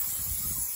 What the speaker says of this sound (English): So I'm going to get my GT spray.